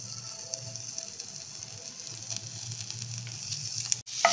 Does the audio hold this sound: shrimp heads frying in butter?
yes